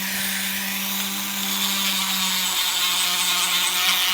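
Andamooka crystal or jelly opal is ground on a spinning grit wheel under a water spray, giving a steady, loud, hissing grind over a low motor hum. The sound runs continuously with no voices.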